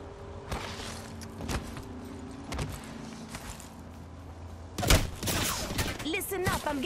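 Gunfire in Apex Legends, scattered shots early then a heavy burst of rapid fire near the end, loud and close, with a player talking over it.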